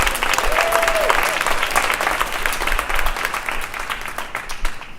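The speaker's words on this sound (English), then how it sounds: "So give yourselves a round of applause just for being here." An audience at a spoken-word poetry show claps loudly and steadily, a thick, continuous burst of applause with some crowd noise that carries through to the end.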